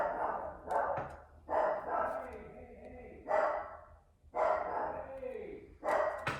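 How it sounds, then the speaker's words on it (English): A pet dog barks in a room with repeated bursts of loud barking separated by short pauses, close and clear. "I apologize if you hear my dog."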